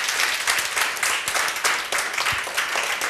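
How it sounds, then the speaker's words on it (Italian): A studio audience on an Italian television show applauds Andrea Cora with a sustained burst of clapping, individual claps audible within a steady, moderately loud wash. "facciamo un applauso ad Andrea Cora per queste"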